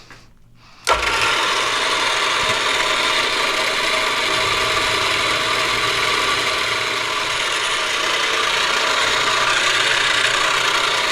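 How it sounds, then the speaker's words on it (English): A drill press or milling machine bores holes into a metal spacer block, running as a steady, loud continuous whir with a sudden start and no pauses for the rest of the stretch. "so let's drill."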